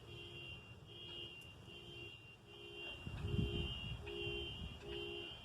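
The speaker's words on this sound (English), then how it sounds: "Sounds like somebody's cars are beeping." A car alarm or horn beeps repeatedly in short regular pulses, about one per second, some distance away outdoors, with low rustling and wind around it.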